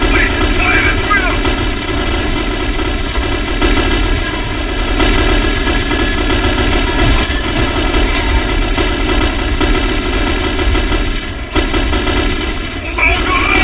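Sustained gunfire rattles through a firefight in the video game Metro 2033, loud and close, with dense overlapping bursts and booms continuing throughout without a break.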